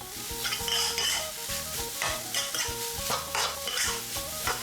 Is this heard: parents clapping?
no